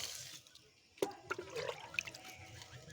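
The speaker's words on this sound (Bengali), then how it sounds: "এবার একটু খোলের জল দিয়ে দেব" Oil-cake fertilizer water is poured onto freshly harvested garden vegetables, giving a close, steady splashing trickle with brief louder gushes and dribbles.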